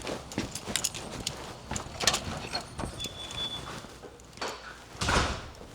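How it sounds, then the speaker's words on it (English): Door closing indoors in a house, heard as several clunks and sliding knocks with footsteps moving toward a kitchen, fairly close, with a sharper bang near the end. "So I closed the door"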